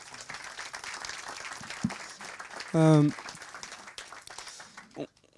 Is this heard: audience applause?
yes